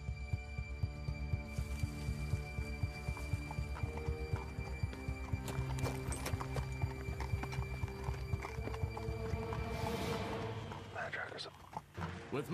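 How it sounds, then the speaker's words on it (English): Horses walk through the woods near Quesnel, British Columbia, hooves clip-clopping in a steady, dense rhythm for several seconds, close and clear, with a brief neigh and a faint voice speaking. "I hear horses."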